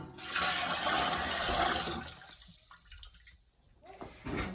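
Water poured from a pitcher into a stainless steel pot in an off-grid cabin in remote Alaska, a close splashing gush for about two seconds followed by quieter drips and trickles.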